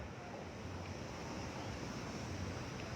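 Flood water rushes through the Nairobi Dam outlet in a dense, continuous roar, loud and close, with no voices over it.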